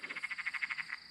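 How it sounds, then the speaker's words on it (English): Perrin's tree frog calling at night beside a yabbying spot, a fast regular series of about a dozen bright, clicking croaks that come in quick succession, moderately faint and alone. "Hear that noise? That's a Perrin's tree frog."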